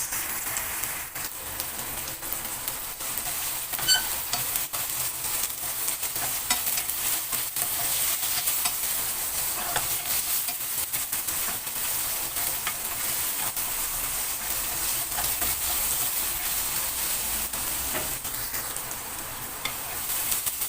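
Ginger sizzling and frying in a pan, a steady dense crackle with occasional stirring, continuous and fairly loud with no talking.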